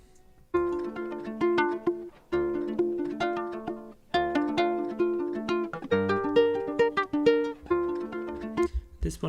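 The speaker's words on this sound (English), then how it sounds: "So the first thing I started with was this guitar that I recorded." A recorded guitar pitched down 700 cents plays a series of plucked, ringing notes and chords in a steady rhythm, close and clear with no talking.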